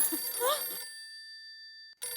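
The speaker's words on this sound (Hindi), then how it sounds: "नाम लिया और फोन आया" A telephone rings with an electronic, melodic tone in a lively family-sitcom household: one clear burst, a pause of near silence, then the ring starting again, fairly close and alone.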